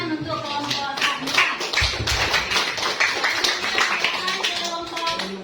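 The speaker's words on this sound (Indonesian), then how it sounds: "tepuk tangan untuk kelompok 4" A classroom gives group 4 a round of applause, with many pairs of hands clapping in a dense, uneven patter that lasts throughout, and voices murmur underneath.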